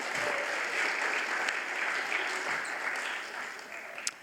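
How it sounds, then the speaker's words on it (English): A room full of people applauds Manatee Performing Arts Center after a film screening at a Bradenton Kiwanis event, a dense, even wash of clapping that holds steady for about four seconds, then thins near the end. "So if we can all give a round of applause to Manatee Performing Arts."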